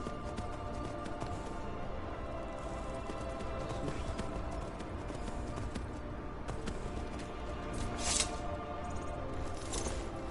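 Horse hooves pounding along in the video game Skyrim, a dense continuous galloping rumble mixed with game ambience and a short brighter burst near the end.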